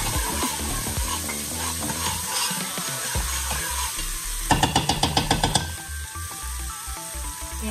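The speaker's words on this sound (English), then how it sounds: "And then you add your garlic." Garlic going into caramelized onions for fried rice, frying with a steady sizzle and stirring scrapes, then a quick rapid run of clicking taps partway through.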